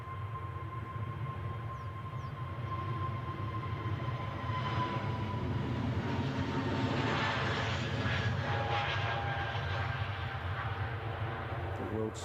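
A British Airways airliner at Edinburgh Airport makes a steady, distant engine rumble and roar that swells slightly midway, heard faintly and without talk.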